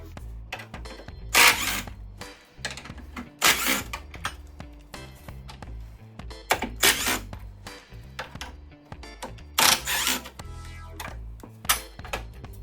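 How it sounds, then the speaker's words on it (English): Ratcheting and clinking tool work removing four 10mm head bolts from the radiator support brackets of a 2013–2017 Honda Accord, heard as repeated loud bursts of clicking metal spaced through the clip with quieter handling between. "we're going to take off these radiator support brackets right here"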